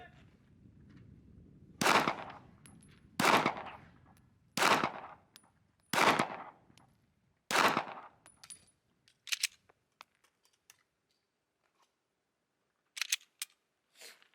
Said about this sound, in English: all in all, this is a really nice shooting gun